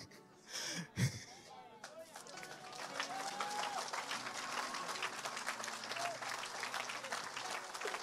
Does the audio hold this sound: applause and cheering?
yes